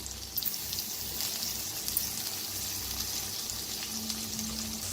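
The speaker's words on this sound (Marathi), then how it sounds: "आता अद्रक लसूण मिरची सगळी चेचलेली मी वापरलेली आहे। तर छान असं भाजून घेऊया।" A crushed paste of ginger, garlic and green chilli, added with onion, fries in a pan for a dingri mushroom dish. It gives a continuous, moderately quiet crackling sizzle with no talking.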